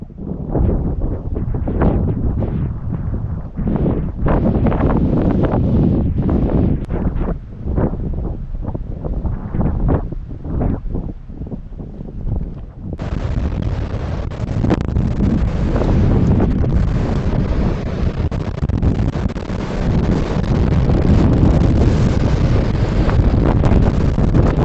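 A heavy windstorm roars through forest trees, loud continuous gusting with buffeting rumble against the microphone, surging and easing without pause and with no voices.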